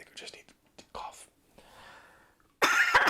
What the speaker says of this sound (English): I think I just need to cough.